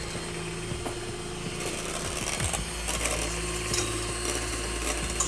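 An electric mixer whips egg whites to stiff peaks, a continuous close mechanical whir and rattle that grows slightly louder partway through, no talk.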